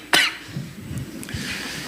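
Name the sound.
coughing in a congregation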